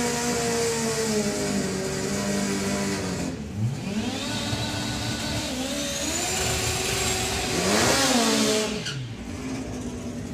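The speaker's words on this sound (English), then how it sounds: "High revving, piercing noise from Roger Moore's bike versus the relatively quiet vacuum style noises of the compound turbo in Lorcan Parnell bike." A drag racing motorcycle at Santa Pod Raceway, a UK strip, revs high and loud, its whining engine tone sweeping up and down in repeated surges for the whole stretch, close and alone with no voices.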